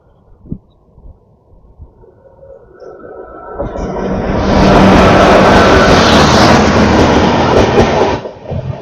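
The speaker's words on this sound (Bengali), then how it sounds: "রাঁচি হাওড়া জনশতাব্দী এক্সপ্রেস।" The Ranchi–Howrah Jan Shatabdi Express rushes past up close: a loud, broad roar swells in after a few seconds, holds steady with rattling wheels, then cuts off near the end.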